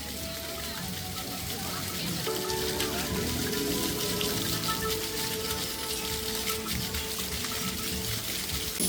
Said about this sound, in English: You just put your hand and you can control the height of the water.